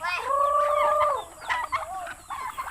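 Chickens on a small farm give a drawn-out, wavering call followed by a few shorter, choppy clucks, close and fairly loud with no talking.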